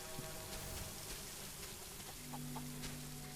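Short clucks from a chicken in the video game SolarPunk repeat over a steady, noisy background, with a low sustained tone joining partway through.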